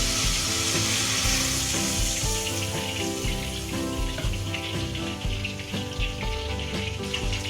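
Water is poured into a hot pan while cooking Indonesian ayam geprek with tempeh and tofu bacem, giving a steady loud sizzle and splashing with a faint repeating tonal hum underneath.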